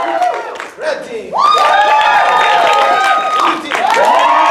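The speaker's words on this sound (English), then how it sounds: "let's give a round of applause if you like the red team stuff better" Crowd at an improv comedy show cheering and clapping for the red team, a loud burst of voices and whoops that swells, dips briefly, then surges again.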